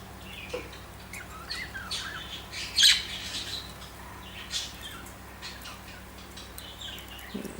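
Pet budgies chirping and squawking indoors, scattered short calls with one louder squawk near the middle, fairly faint and close against a quiet room background.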